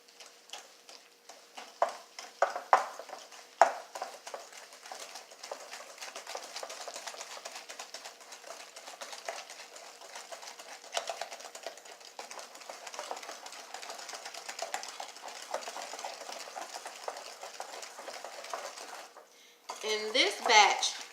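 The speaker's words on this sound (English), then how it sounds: "I'm going to mix this by hand" Cookie dough wet ingredients are stirred by hand in a bowl, producing a continuous run of soft scraping and clinking from a spoon against the bowl, close and moderately loud, ending in a few louder knocks.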